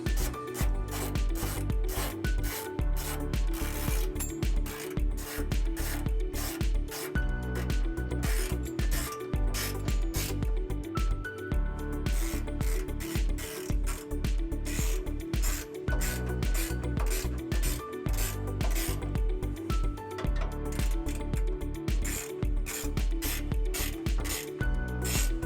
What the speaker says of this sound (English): And then we'll go ahead and tighten them down using a 13mm socket.